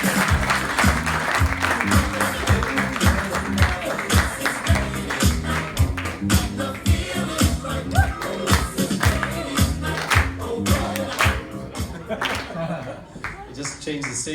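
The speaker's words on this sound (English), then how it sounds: "Big round of applause for our first comedian tonight, Dan Durney." Audience applause and claps for a comedian at a live comedy show, loud and sustained throughout, mixed with a rhythmic music track playing underneath.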